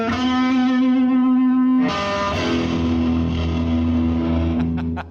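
Loud electric guitar driven through an amplifier with heavy distortion, sustaining a thick chord and then striking a fresh crashing chord that rings on, alone with no talking.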